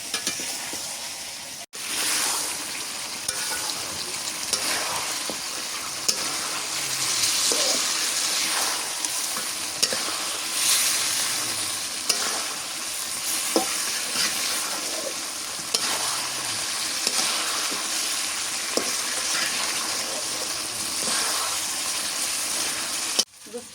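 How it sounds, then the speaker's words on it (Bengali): Bottle gourd pieces stir-fried with beef in a pan give a steady, close sizzle and hiss with repeated scraping stir strokes throughout, a brief dropout near the start, and no talking. "এখন লাউগুলো দিয়ে কষানো করে নিলাম"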